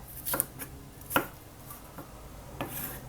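A knife chops vegetables such as sweet peppers on a board while boxed lunches of chicken stir-fried with sweet peppers and king oyster mushrooms are made. A few crisp, separate cuts come fairly close and soft over a quiet kitchen hush.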